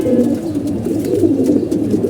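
Pigeons cooing in a loft, a soft, continuous run of low, rolling coos from several birds close by, with no talk.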